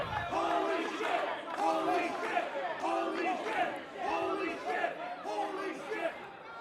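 A wrestling arena crowd roars during a Tables, Ladders & Chairs match after a ladder move, with loud, sustained cheering and rhythmic chant-like swells throughout.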